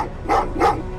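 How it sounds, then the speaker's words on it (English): Two quick barks from dogs in the video game Terminator Resistance, evenly spaced and fairly close. "Well, what's with the dogs?"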